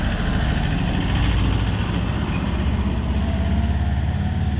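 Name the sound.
patpat motor vehicle engine passing by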